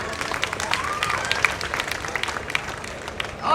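A live audience applauds dancers after a Krishna dance-drama at a Shri Krishna festival stage in Patna, a steady, crowded wash of clapping with some crowd noise, heard from within the audience.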